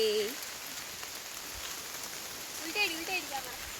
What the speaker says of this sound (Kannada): ಮಳೆ ಬರ್ತಾ ಉಂಟು ಸೊ ಅದಕ್ಕೆ ಕೊಡೆ ಇಟ್ಕೊಂಡಿದ್ದೇವೆ